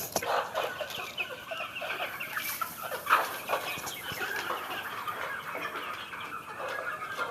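Native village chickens on a small farm cluck and chatter continuously at close range, with overlapping hen calls and one louder squawk midway, no talking.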